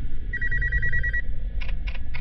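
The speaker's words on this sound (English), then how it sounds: "It was just a phone call." Telephone ringing in a horror video game, a close electronic ring with a trilling double tone followed by three short repeated bursts, heard over a low rumbling ambience.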